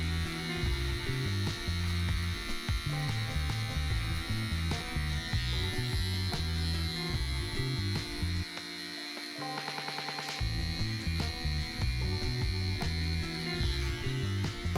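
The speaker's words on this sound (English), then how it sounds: "So I normally use the trimmers up high." An electric beard trimmer buzzes steadily and close throughout, a continuous humming drone that shifts slightly in pitch as it moves over the beard.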